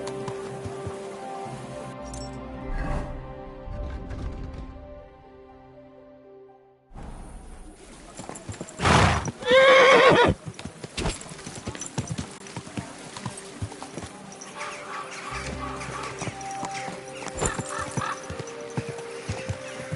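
Hooves clip-clop steadily from a horse in a video game, with a brief louder burst like a neigh midway, set against game music and ambient noise.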